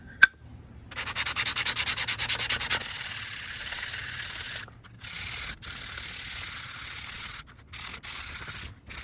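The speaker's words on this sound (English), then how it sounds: "I'm now going to use 220 grit sandpaper to get these little bits of wood off and make it flat." Hand sanding wood flat with 220 grit sandpaper, close rhythmic back-and-forth rubbing strokes followed by longer steady scrubbing broken by brief pauses, no voices.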